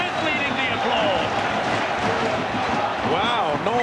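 Crowd applauding and cheering at a 2009 Warrington versus Wigan rugby league match, a dense steady roar of clapping from a large stadium crowd, with a commentator talking over it throughout.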